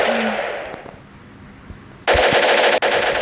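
Automatic gunfire from the mobile shooter game Standoff 2: a faint shot early on, then a loud, sustained rapid burst erupts at close range about two-thirds of the way in and rattles on to the end.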